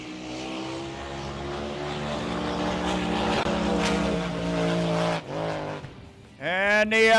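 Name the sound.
drag racing boats running on the water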